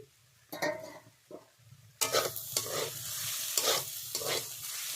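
Chickpea lentils and chikni greens cook in a pan, sizzling softly while a spoon stirs and scrapes through them in several close strokes.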